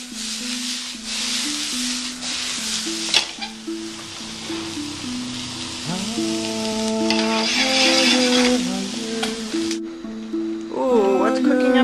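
Vegetables sizzling in quick stir fries in a busy kitchen, a constant bright frying hiss under music and people talking, with clattering and bursts of louder sizzling.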